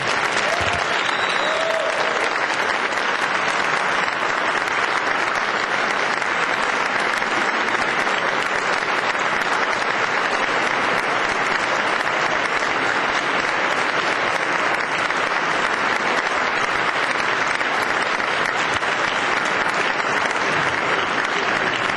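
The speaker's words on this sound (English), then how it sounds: "I want all of us to give all of you applause" Audience at a school board meeting giving a standing ovation, dense sustained clapping from a roomful of people that stays loud and even for the full twenty-odd seconds, with no talking over it.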